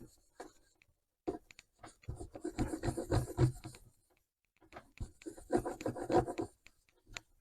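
A 1953 Portadyne Universal valve radio cabinet is polished and buffed by hand, giving two bursts of close, soft scratchy rubbing separated by a quiet pause.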